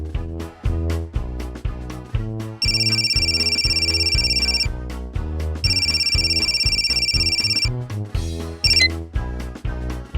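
Electronic phone ringtone in an animated cartoon series, two sustained bursts of bright, steady ringing over a busy, loud rhythmic music score, followed by a short chirpy electronic flourish near the end.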